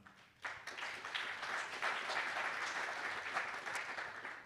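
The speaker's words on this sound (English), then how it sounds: "A round of applause for Fergus Altman." Applause breaks out from a conference hall audience at a green hydrogen energy presentation, starting abruptly after a brief quiet moment and continuing as even, fairly distant clapping for about four seconds.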